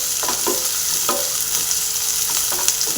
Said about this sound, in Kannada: ಈಗ ಒಗ್ಗರಣೆನ ನೀಟಾಗಿ ಮಿಕ್ಸ್ ಮಾಡ್ಕೋಬೇಕಾಗುತ್ತೆ ನಾವು.